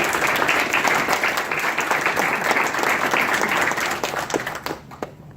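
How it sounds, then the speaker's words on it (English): A crowd applauding steadily, dense clapping that holds level for several seconds before thinning out near the end. "If you could show a round of applause."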